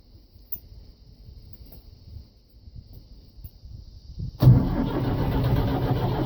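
A Ford 755 backhoe on a cold start: faint rhythmic cranking for several seconds, then the diesel engine catches with a sudden loud burst and settles into a rough, steady running roar close by.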